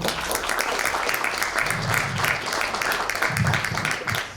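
Applause from a conference audience at an international environmental indicators event: a steady patter of many hands clapping, moderately loud and sustained across the whole stretch.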